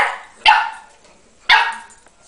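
Pug barking at a paper cutout of a pug: two sharp, loud barks about a second apart, each trailing off into quiet.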